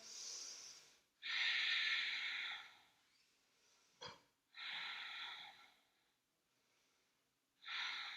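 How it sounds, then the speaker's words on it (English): Slow, deep breaths in a yoga pose during a vinyasa class with backbends and hip openers: three long airy inhales and exhales, close and fairly loud, separated by quiet pauses, with one short sharp sniff in the middle. "Couple more breaths here."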